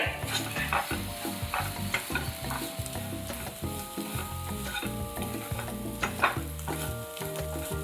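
Prawn fry (royya pottu) sizzles in a pan while being stirred, a loud continuous frying hiss broken by repeated scraping strokes of the spoon, close up with no voices.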